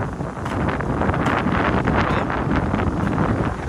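Strong wind buffets a microphone outdoors in a village, a loud continuous rushing roar with gusty surges throughout.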